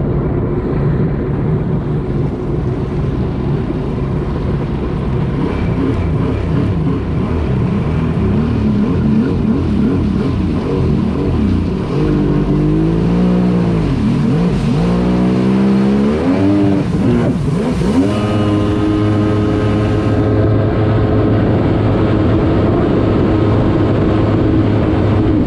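A Yamaha GP1200R personal watercraft engine runs on water with a carburetor fault, running on two cylinders. It drones loud and steady, then revs up and down in surging swells before settling back.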